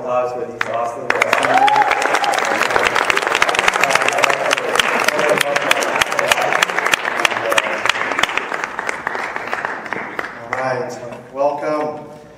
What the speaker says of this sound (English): can we get one last round of applause for these awesome guys?